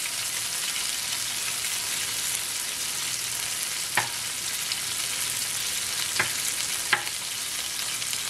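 Chicken seasoned with steak seasoning fries in a pan for a chicken pot pie casserole. A steady hissing sizzle runs throughout, with three sharp utensil taps and scrapes rising above it.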